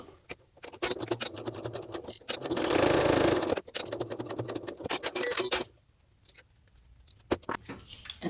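A sewing machine top stitches pieces of fabric in rapid, rattling bursts, stopping and starting several times, with one longer continuous run in the middle and quiet pauses between runs.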